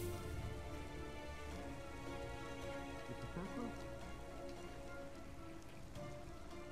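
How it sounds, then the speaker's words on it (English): Rain falling in the game The Invisible Hours, a soft, continuous wash of drops on surfaces, faint and steady throughout with no one talking. "We're just gonna go inside out of the rain now."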